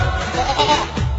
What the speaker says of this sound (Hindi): ऐसा बकरा देख रहा हूँ